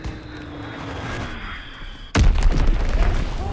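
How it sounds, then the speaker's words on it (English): An incoming bomb strikes in Call of Duty: WWII, a sudden heavy explosion that cuts in after a quieter stretch of distant battlefield ambience and then rumbles on loudly, close by, with no talking over it. "Enemy bomb incoming. Get to cover."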